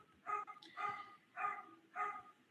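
A small dog, a little pet, lets out four short yapping barks in an even rhythm, fairly faint and slightly distant, with no talking over them.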